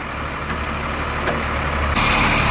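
A 6x6 Power Wagon truck with compound turbos runs on its PTO throttle, its engine giving a loud, steady drone that keeps going without a break and grows slightly louder near the end, with no talking.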